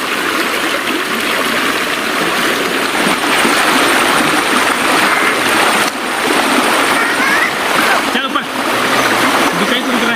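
River water rushes and splashes steadily as people wade across it on foot, a loud, continuous churning flow close by with voices faintly mixed in.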